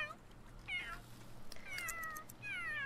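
A cat in The Sims 3 gives several soft meows, rising and falling, spread across a few seconds over quiet game music.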